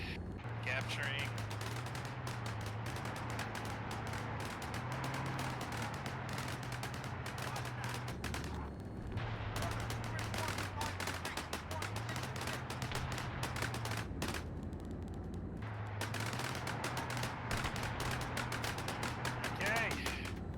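Gunfire in the military shooter Arma 3 during an Antistasi session, continuous busy bursts of shots layered over a steady low engine-like drone, with voices talking throughout.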